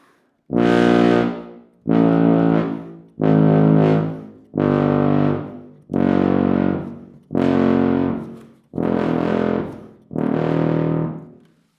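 A plastic tuba plays eight loud, blaring low notes one after another, each held about a second with a buzzy, raspy edge and brief gaps between.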